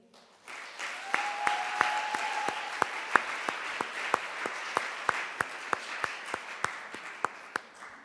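An audience at a graduate competition gives a round of applause after a finalist's speech, a dense wash of clapping with sharp individual claps standing out, sustained for several seconds before tapering.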